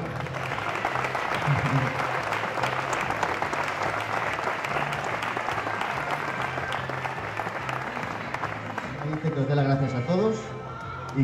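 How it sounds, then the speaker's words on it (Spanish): Sustained loud applause from a large crowd at a bodybuilding competition, steady clapping throughout with some voices rising near the end. "Un fuerte aplauso,"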